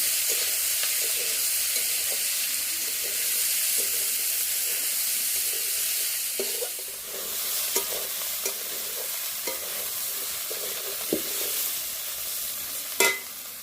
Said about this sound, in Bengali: কাঁচা লঙ্কা পেঁয়াজ কেটে দিলাম কাঁকড় ভাজাতে